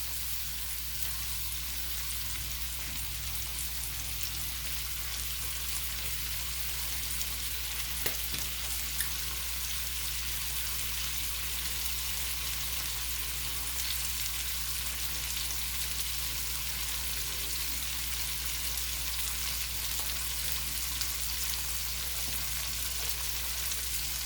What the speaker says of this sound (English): stir fry for a minute until fragrant